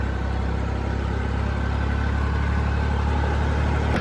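A tractor engine runs steadily at close range, a dense low rumble with a constant mechanical drone that holds even and unbroken throughout, with no voices over it.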